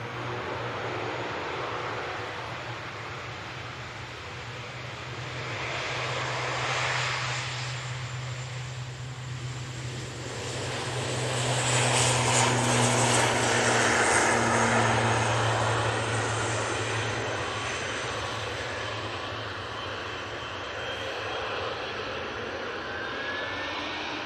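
A Vueling airliner takes off for Barcelona, its broad jet engine roar swelling and fading over about twenty-four seconds, loud and sustained with a steady low hum beneath.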